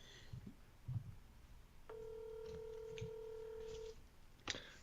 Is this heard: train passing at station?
no